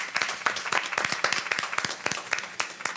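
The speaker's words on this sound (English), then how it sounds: "I want to give a round of applause to the staff" Applause at a village board of trustees meeting, a modest group clapping with distinct individual claps audible, steady for a few seconds and no talk over it.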